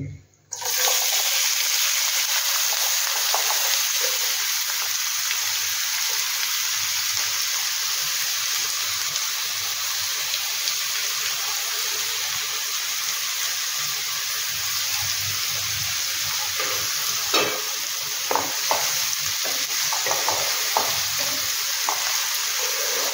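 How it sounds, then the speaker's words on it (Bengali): Sliced onions frying with two bay leaves in white cooking oil, a loud, steady, close sizzle that hisses without a break throughout, with a few faint stirring clicks and a brief stretch of talk. "এবার পেঁয়াজটাকে বেশ লাল করে ভেজে নিতে হবে, এর জলটা মেরে নিতে হবে।"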